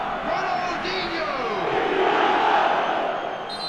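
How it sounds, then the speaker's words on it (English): A large football stadium crowd swells in a sustained roaring reaction, broad and distant, carrying steadily over several seconds with a commentator's voice running on top. "the crowd are reacting to that now"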